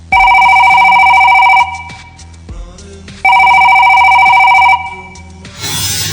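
A telephone rings loudly nearby in two long electronic bursts separated by a pause, the second followed by some background rustle.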